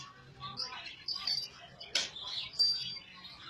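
A trained pet bird gives short, bright chirps and whistles in scattered bursts, fairly close and moderately loud, over a faint low background hum.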